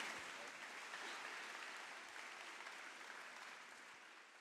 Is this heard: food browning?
no